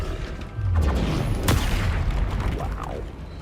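A Confringo blasting spell going off in the Hogwarts Legacy video game, a booming explosion with a sharp crack at its peak amid rumbling battle noise.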